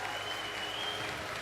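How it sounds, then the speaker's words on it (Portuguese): Congregation applauding everyone at a church service, a steady wash of clapping from a crowd that fills the whole moment without a break. "Uma salva de palmas para todos vocês."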